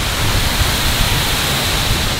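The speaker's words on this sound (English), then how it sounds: "that's what you call a road waterfall" A roadside waterfall in a Philippine jungle roars as a dense, steady rush of falling water, loud and close, with no voices.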